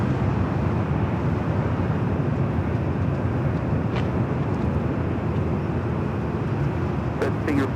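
A departing airliner roars steadily at Los Angeles International Airport, a broad continuous engine rumble and wash of noise that stays loud and even throughout.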